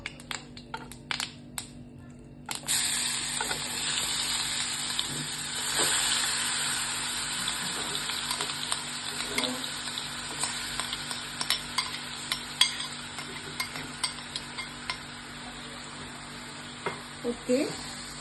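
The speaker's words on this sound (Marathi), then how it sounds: "आता थोडंसं हे चरचर होतंय, म्हणजे चांगलंसं गरम झालेलं आहे आपलं तूप।" Crushed apples hitting hot ghee for apple modak, a steady close sizzle and frying crackle with stirring scrapes, after a few brief knocks at the start, with no talk.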